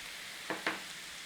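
Spices for a chicken dhansak sizzle in hot oil, with a soft steady frying hiss broken by two quick louder crackles close together, and no talking.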